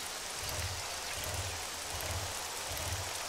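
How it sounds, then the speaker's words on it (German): Steady rain in the survival game 7 Days to Die, a constant even hiss with a faint low rhythmic pulse underneath, no voices. "So wie echt blöd, wie es regnet"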